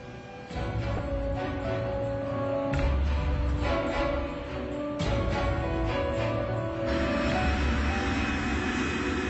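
KLM airliner on a fog-covered runway: a steady, droning aircraft engine rumble with shifting low tones, fairly loud and continuous, no talk.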